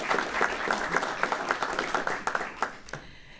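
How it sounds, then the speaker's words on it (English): An audience at a school recognition ceremony claps in a brief round of applause, a moderate patter of many hands that thins and fades out within a few seconds. "I think we owe another brief round of applause to our 2 schools being recognized this morning."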